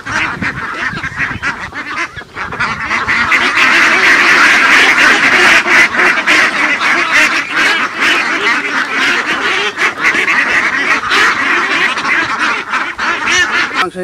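Ducks on a duck farm quack and honk continuously in a loud, dense flock chorus with overlapping calls, close to the listener throughout.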